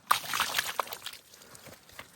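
A little water is splashed to rinse a carcass during pig butchering: a short slosh and trickle with a few quick splashes up front, then fading drips, with no talk.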